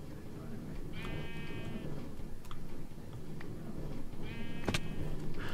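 Two short bleats from a Minecraft sheep on a wool farm, the first about a second in and the second near the end, heard faintly over low game ambience.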